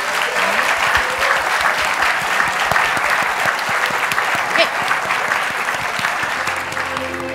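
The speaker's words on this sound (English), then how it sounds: "Please, huge round of applause for these fabulous women." Sustained, dense applause from an audience after a fashion show, a loud, steady wash of many hands clapping for the full stretch with no break.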